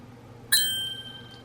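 A single bright notification bell ding strikes once and rings out with a clear, ringing decay, standing alone over a faint background hiss.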